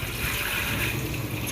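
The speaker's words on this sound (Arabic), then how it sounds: "بصوا ميه جايه عليها" Water pours steadily over okra being prepared for freezing, a continuous splashing rush at close range that runs without a break while a voice talks over it.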